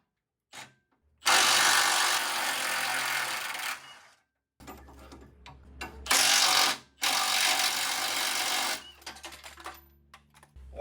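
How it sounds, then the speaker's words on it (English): Impact wrench spinning off 16 mm axle bolts on a Jeep JKU rear axle swap: two long, loud bursts of whirring rattle separated by brief pauses and a few clanks, with no talk. "Hopefully this impact just takes them right off."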